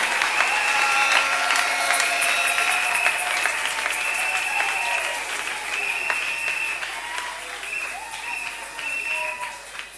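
Church congregation applauding and cheering together in sustained, dense clapping that stays loud throughout, with a sung or chanted melody running beneath it.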